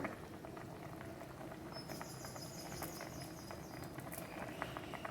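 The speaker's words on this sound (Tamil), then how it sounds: "இது நல்லாவே ஒரு 5 minutes கொதிச்சிடுச்சு." Crab rasam soup boils in a pot, giving a steady, dense bubbling and popping that runs evenly throughout at a moderate, fairly quiet level, with no voices.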